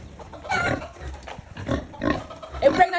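A pregnant sow on a pig farm grunts close by in several short, rough snorts with uneven pauses, while a person speaks briefly in the background.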